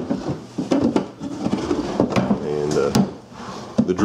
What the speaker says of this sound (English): The drawers slide good, they fit good.